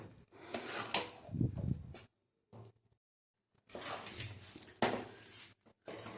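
A spatula scrapes and stirs thickening mango chutney in a pan, giving bursts of rough scraping in two runs with a short silent gap between, close and fairly quiet, with no talking.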